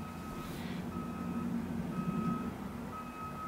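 Truck reversing alarm outside, a steady series of evenly spaced electronic beeps repeating at a moderate distance over low engine rumble, with no talk.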